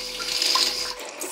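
Water sprays in a brief, close hissing burst from the handheld nozzle of a bidet toilet seat, steady for about a second before dropping off.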